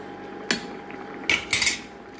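A spoon clanks and scrapes against a pan while bitter gourd is stirred into masala for a tamarind gravy, a few sharp metallic knocks over a steady low hum.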